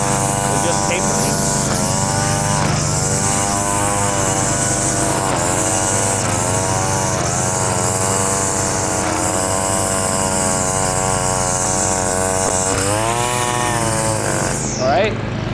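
A weed whacker edges a lawn with a loud, steady motorized whine that rises and falls in pitch as it cuts, running close and continuously throughout.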